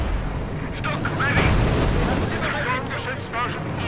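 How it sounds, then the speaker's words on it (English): Light artillery shells land in a Company of Heroes 2 match, giving rumbling booms and crackling blasts within dense battle noise, heard under continuous talk. "a bit of light artillery going in there on the penal troops, the Strafniki"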